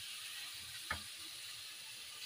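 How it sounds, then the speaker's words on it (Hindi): Chicken pieces sizzle in hot oil with salt for Peshawari chicken karahi, a steady, fairly quiet frying hiss with one brief knock partway through. "मैं तेल के अंदर चिकन डालिए और ये नमक डाला, इसकी बुनाई करेंगे।"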